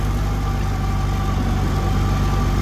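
Old plow-day tractor engine chugging at steady high throttle, a continuous heavy low rumble with a faint rise in revs over a couple of seconds, no voices over it.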